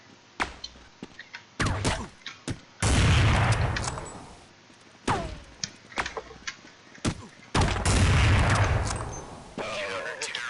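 Sharp bursts of gunfire from the video game Counter-Strike 1.6 ring out repeatedly, some single shots and some in rapid clusters, with a few heavy booming blasts between them.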